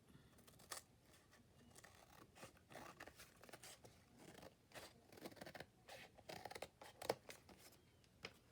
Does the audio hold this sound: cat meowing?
no